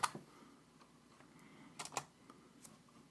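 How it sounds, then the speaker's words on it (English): Keys on a computer keyboard tap out a few sparse, quiet strokes in an otherwise hushed room, irregular clicks with long gaps between them and no talking. "The loud keyboard typing."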